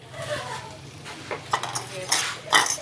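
Banana heart cooks in a pan for sisig, with brief clinks and scrapes of a utensil stirring against the pan over a faint sizzle, close and fairly quiet.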